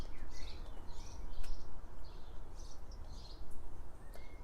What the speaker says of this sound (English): I'm listening to the birds first thing in the morning. Listen to that.